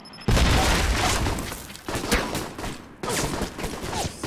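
A pistol in the espionage video game Alpha Protocol fires a few loud, sharp shots, each followed by a ringing tail and separated by short pauses.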